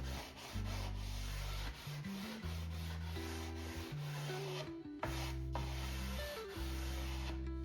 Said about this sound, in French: je ponce toujours un petit peu les arêtes, comme c'est du champ en bois